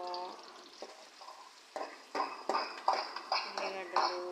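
Onions and green chillies frying for chicken curry, a pan sizzle broken by repeated scraping stirs that grow louder and more rhythmic toward the end; a voice talks over it.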